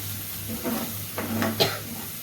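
Ginger and garlic paste fries gently on low heat for prawn fry, a soft steady sizzle with a few stirring scrapes and one sharper tap, close and without voices.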